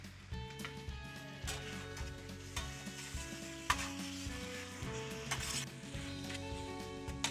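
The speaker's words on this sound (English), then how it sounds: "Now we're just gonna give this a nice good stir" Pork char siu stir fry sizzles in a pan while being stirred, a steady moderate frying hiss with occasional utensil scrapes and knocks, backed by soft music with no speech.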